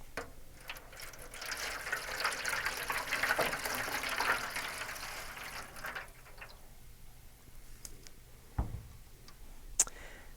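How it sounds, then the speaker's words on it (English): Water pours steadily into a pan for a science experiment with a boat, a soft continuous splashing stream for several seconds before tapering off, followed by a few light knocks and clicks. "First, pour your water into the pan."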